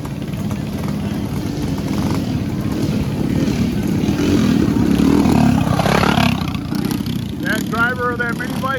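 Mini bike racing engines at a race in Symco, Wisconsin make a continuous loud buzzing drone with some clatter. An announcer talks over the engine noise.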